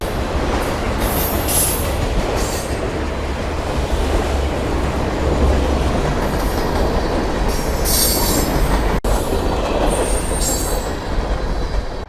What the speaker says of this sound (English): And here comes a train, so we're gonna have to wait a minute.